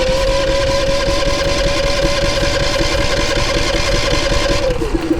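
A Dometic Penguin 13,000 rooftop air conditioner running after startup: a steady, close mechanical drone with a constant tone that dips slightly just before the end.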